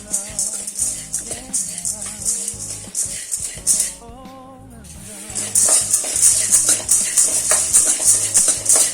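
Roasted gram being gently heated and stirred in a pan while preparing festive ellu bella sweets, a steady scraping stir with a light sizzle running throughout, briefly quieter midway then louder and busier again.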